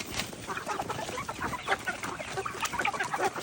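Several chickens cluck and chatter close by in a busy, continuous flurry of short calls.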